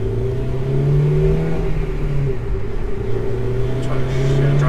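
A Honda Civic Si engine, 8th generation, accelerates with a mellow, steady mid-range drone heard from inside the car, continuous and moderately loud throughout.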